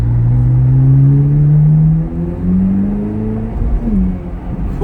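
A Chevrolet Corvette C8 Z06 engine revs hard up through the rpm range with a rising, droning tone, then briefly eases and climbs again, loud and close from inside the car.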